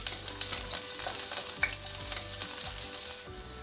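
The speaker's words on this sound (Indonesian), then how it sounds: "Panaskan minyak, lalu tumis bawang putih dan jahe. Nah, diaduk." Garlic and ginger sauté in hot oil in a wok, a loud continuous sizzle broken by repeated rhythmic scraping strokes of a spatula stirring, close up with no talking.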